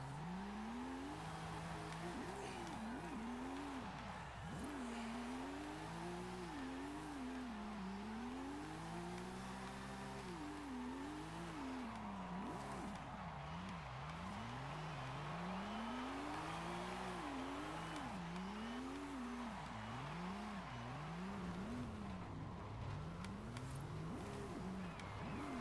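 In the Forza Horizon 5 video game, a Porsche drift car with overly long gearing holds a loud, continuous engine howl that rises and falls again and again as it slides sideways, with faint tire noise underneath.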